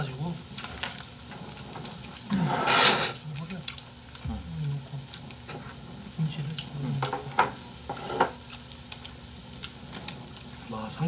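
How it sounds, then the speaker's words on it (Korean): Meat sizzles and fries on a home grill in a steady, crackling hiss with small pops and clinks of utensils, a brief louder burst of sizzle early on, and quiet voices in the background. "지글지글이 지리네"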